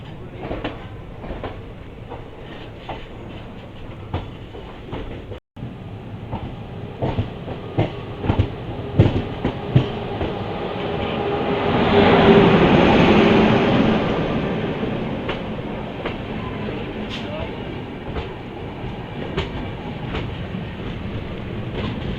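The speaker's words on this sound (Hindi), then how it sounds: "तो जबलपुर जंक्शन पर अराइवल लेते हुए ताप्ती गंगा एक्सप्रेस।" The Tapti Ganga Express rolls into Jabalpur Junction in India, a steady rumble of wheels and clattering carriages with rhythmic clicks that builds to a louder passing swell midway, then settles into a slower roll.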